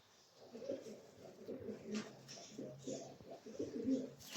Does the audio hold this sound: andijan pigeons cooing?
yes